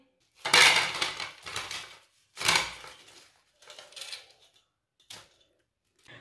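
Freshly fried samosas set onto a plate, several distinct bursts of clinking and clattering dishes separated by short silences, close and clear.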